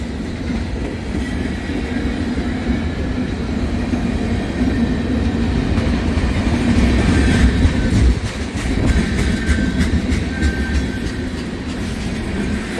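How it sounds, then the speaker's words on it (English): A long freight train of more than six hundred axles rolls steadily past at close range, a continuous loud rumble with rail clatter and faint wheel squeal, without speech. "600 something axles, ain't a short train by any means."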